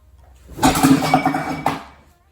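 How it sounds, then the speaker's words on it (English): A couch cushion thumps softly, then a wax warmer on a side table clatters in a brief crash, then a second knock, close by and short. "That sound was the cushion smashing into the wax warmer on the table next to the couch."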